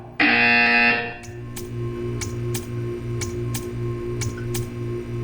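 In Portal 2, a loud, harsh electronic buzzer blares for about a second, followed by a steady series of crisp ticks over a low mechanical hum.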